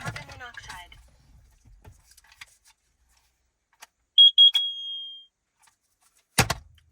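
A carbon monoxide alarm sounds in a small rooftop dwelling, giving a short run of three sharp, loud beeps followed by a trailing tone. The room is otherwise quiet apart from faint earlier sounds and a clunk at the end.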